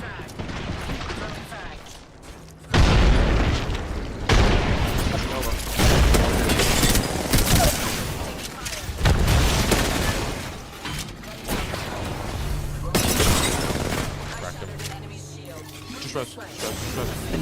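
Grenade blasts in a ranked console shooter match, several heavy booming explosions with rumbling and debris between them, loud and close, while players talk over the chaos.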